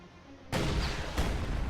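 Raketenwerfer firing in a war video game, a sudden loud, broad blast that becomes a sustained roar, followed by a second burst a moment later over a low background rumble.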